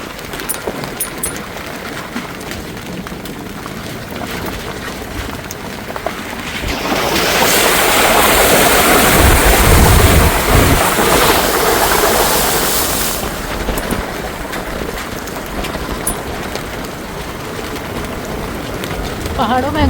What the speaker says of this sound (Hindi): इतनी भयानक बारिश हो रही है